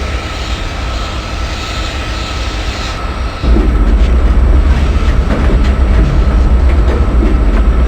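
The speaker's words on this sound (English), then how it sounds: "We are crossing the river bridge, so only the speed limit is 100." Nagercoil Express passenger train crossing a river bridge at speed, a loud steady rumble of wheels and carriages that swells sharply louder partway through and stays heavy to the end.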